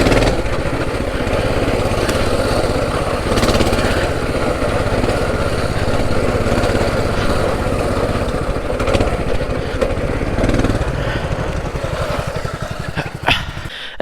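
A minibike engine runs continuously nearby, a loud buzzing small-engine drone that rises and falls slightly in revs outdoors, with a few faint knocks toward the end.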